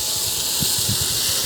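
Freshly caught tilapia hits a frying pan, producing a loud, close, continuous hiss of hot oil that stays steady through a brief moment, no voices.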